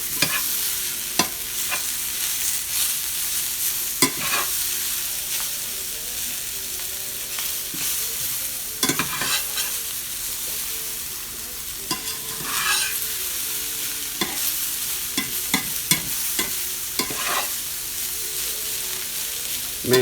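Bacon, potatoes and green beans stirred in a sizzling pan, with a spoon scraping and knocking against the pan in irregular strokes over a continuous fry hiss.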